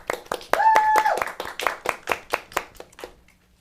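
Scattered hand claps from a small audience greeting a band, sharp separate claps that thin into a sparse rhythm and die away, with a brief whistle-like tone early on.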